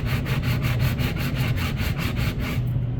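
A wooden neck for a 7-string baritone guitar is sanded flat with fast, even back-and-forth strokes, a loud close rasping rub repeating about five times a second.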